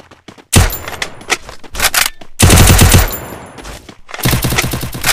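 Bursts of UMP submachine gun fire from the Free Fire shooter game, several rapid loud volleys separated by short pauses, close and dominant with no talking.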